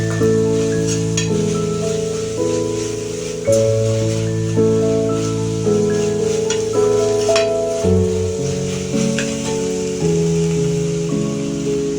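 Ginger garlic paste fries with onion in a pan, giving a steady close sizzle with occasional stirring scrapes, while background music plays throughout.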